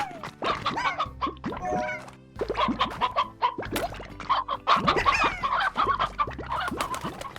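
Hens clucking and squawking in the game Slime Rancher, a busy run of repeated clucks and short cries with a barking-like edge, fairly close and steady throughout with no talk over them.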